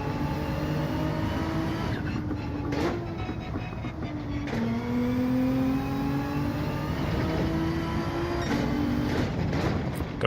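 An Audi Gr.3 race car engine in Gran Turismo 7 drones loudly and steadily on Trial Mountain, its pitch rising and dropping through gear changes with no pauses.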